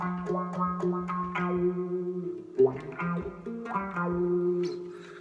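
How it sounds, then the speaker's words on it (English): An electric guitar played through a wah pedal, with a series of plucked notes and chords whose tone sweeps and swells, moderately quiet and heard alone without talk. "And so that's basically the wah pedal."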